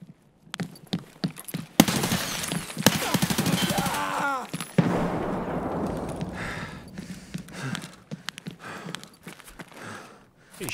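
Gunfire in Escape from Tarkov: bursts of sharp shots and rapid automatic fire, loud at first, then a dense noisy stretch followed by sporadic quieter cracks and footsteps.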